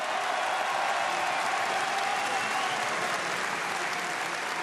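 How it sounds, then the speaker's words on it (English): Loud, sustained applause from an MMA event crowd fills the space after a fight, a dense even roar of clapping holding steady from start to finish with no voices standing out. "j'ai envie de refaire des applaudissements pour cette guerre exceptionnelle que vous avez livrée"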